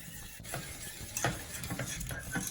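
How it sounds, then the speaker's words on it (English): Cheesecake icing being stirred, soft repeated scraping strokes at an uneven rhythm, close and fairly quiet. "Just give it a stir and watch it turn"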